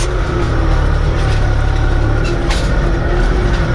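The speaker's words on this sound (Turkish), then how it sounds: "Çok zıplıyor arkadaşlar traktör ya." A tractor engine drones steadily and loudly up close, with clattering and jolts as it bounces across a field while pulling a cultivator through corn and sesame ground.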